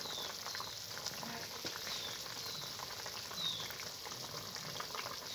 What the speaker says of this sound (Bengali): বন্ধুরা দেখুন তরকারির জলটা ফুটছে